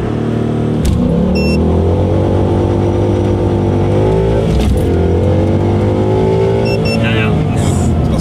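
A Ford Mustang 5.0 V8 revs hard for a launch with traction control off, its loud engine climbing and dropping in pitch through repeated surges, close up, with people talking over it.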